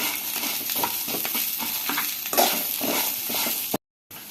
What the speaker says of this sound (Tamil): இப்போ நம்ம ஸ்லைஸாக கட் பண்ணி வச்ச வெங்காயத்தை சேர்த்து வதக்கலாம்.